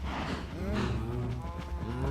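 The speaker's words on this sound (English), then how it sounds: "Come in and see what the cows are doing." Cows lowing in Minecraft, with several drawn-out moos overlapping one another, close and fairly prominent over a low background hum.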